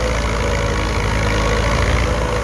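A Ford tractor engine working while plowing a field, a loud, close, continuous diesel drone with a steady low rumble and no voices over it.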